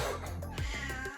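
A pet cat meows in a workshop where an arcade cabinet is being restored, with the sound filling the short moment on its own. No talk is heard, and the meowing stays fairly close throughout.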